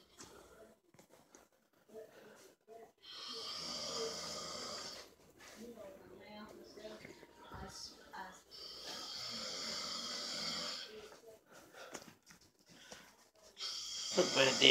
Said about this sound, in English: My dad snores. That's the only thing he does.